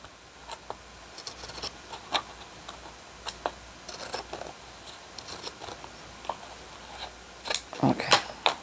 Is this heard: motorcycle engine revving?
no